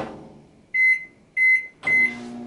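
A microwave oven gives three short, loud electronic beeps in an even rhythm, following a low fading hum as it finishes running.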